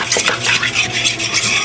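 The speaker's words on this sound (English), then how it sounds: "Okay, whisk that in." A whisk beats lemon juice into Caesar salad dressing in a bowl, a quick, rhythmic clicking and swishing stir that is loud and close throughout.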